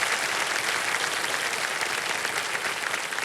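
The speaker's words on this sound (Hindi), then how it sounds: "जोरदार तालियां" Studio audience on a television quiz show bursting into sustained, even applause, a thick continuous roar of many hands clapping at moderate volume throughout.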